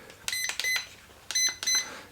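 Short electronic beeps from a WLtoys K989 1/28 scale RC car transmitter's steering trim come in two clusters, a few quick bleeps, a pause, then a few more, bright and close.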